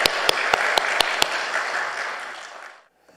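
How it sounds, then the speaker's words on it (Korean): A church congregation claps to welcome a visiting pastor, with a few sharp individual claps standing out early over the dense applause, which fades out completely near the end. "우리 오시느라고 애쓰신 우리 박수로 환영하겠습니다."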